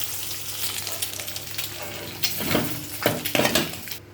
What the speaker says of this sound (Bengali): ডিমগুলো আমি লাল করে ভেজে নিলাম